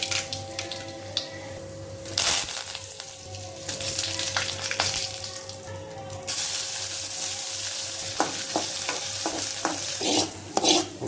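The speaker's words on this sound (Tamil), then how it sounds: "இனி இது கூட வெங்காயம், கடுகு இதெல்லாம் தாளித்து போடும்போது சூப்பர் டேஸ்ட் ஆயிரும்." A hot tempering of onion and mustard seeds is poured into mashed tubers and mixed. A continuous sizzle and hiss runs under repeated spoon scraping and clatter, with brief louder bursts partway through.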